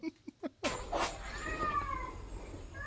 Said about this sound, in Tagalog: Tapos may pusa pa, oh.